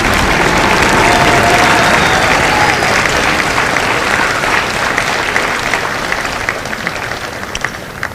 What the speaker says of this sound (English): Ladies and gentlemen, let's give a round of applause to our drill instructors.